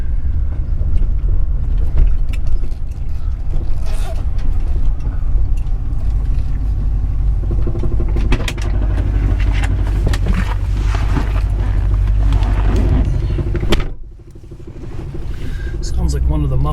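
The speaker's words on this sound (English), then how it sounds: "Sounds like one of the mufflers might be rattling against the bottom of the car." A 1969 Lincoln Mark III driving, its engine and road rumble steady and loud throughout, with irregular rattly knocks from a muffler striking the car's underside; a brief dip near the end before the drone resumes.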